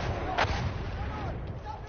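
Artillery shells strike in the World War I shooter Battlefield 1, a dull rumbling barrage of distant thuds with a sharper blast near the start, heard through muffled low-quality sound.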